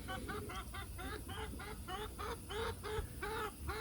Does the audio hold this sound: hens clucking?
yes